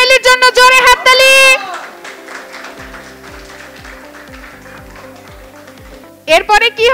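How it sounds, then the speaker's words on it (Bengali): A class of young children at a school quiz competition gives steady applause for the runner-up team. The clapping lasts about five seconds, with a voice speaking just before it and again right after. "চামেলির জন্য জোরে হাততালি।"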